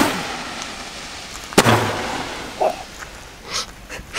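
Roman candle fireworks outdoors: one sharp bang, then fainter pops and fizzing bursts some distance away, under someone talking.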